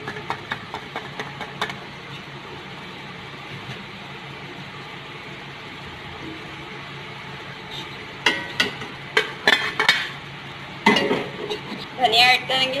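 Chickpeas with green chili and black pepper frying in a pan for chana chawal, a steady low sizzle with scattered clinks of a spoon against the pan that grow into louder bursts of scraping and stirring toward the end.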